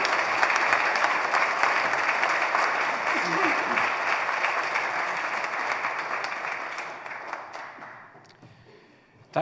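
An audience at an Easter university graduation ceremony applauds in a dense, continuous round of clapping in a large hall, steady at first and then gradually tapering off toward the end.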